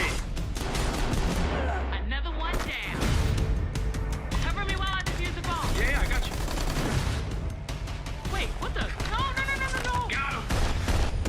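Gunfire in the Call of Duty Warzone video game: repeated shots and bursts crackle steadily through the scene, mixed with game effects and players talking over the top.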